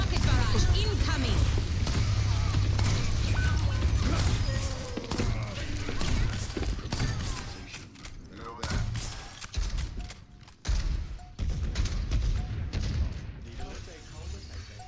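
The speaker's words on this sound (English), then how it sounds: "Rocket barrage incoming." A rocket barrage in Overwatch 2 sets off a dense run of booming impacts and crackling blasts, loud and continuous at first before thinning into scattered hits, with game sounds and a voice over the top.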